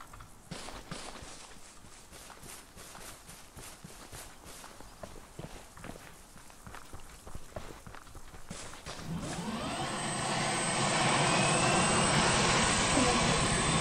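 A military helicopter in the ARMA 3 video game starts up, its engine rising to a loud, steady whine and rotor hum after a stretch of footsteps and movement.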